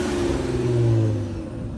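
A supercharged car engine revs with its exhaust, a steady loud low rumble that swells and falls back over a couple of seconds, close by with no talking.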